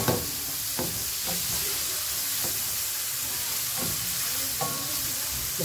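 Food sautéing in oil in a home kitchen pan, a steady loud sizzle and hiss throughout with periodic scraping stirs every second or so.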